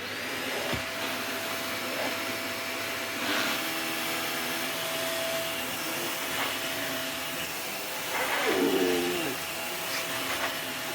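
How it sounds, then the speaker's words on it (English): A Hoover HL4 bagless upright vacuum runs steadily with its brush roll turning, a constant close whirring hiss with brief scraping bursts as it moves over carpet. "Let's plop it down and check that the brush roll does turn."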